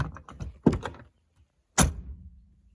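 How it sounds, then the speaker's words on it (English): Door of a 1969 Cobra replica car opened by pulling a round ball on the door handle hardware, heard as a soft mechanical shuffle followed by one sharp, close latch clunk that rings briefly and fades. "You pull that ball forward,"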